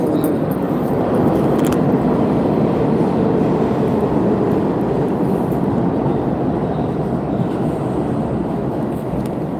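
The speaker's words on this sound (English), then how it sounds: "Y'all want to see the train? Y'all want to see the subway and shit?" Subway train in the city, heard as a loud, steady rumbling roar that fills the whole stretch without letup, with occasional faint metallic squeals on top.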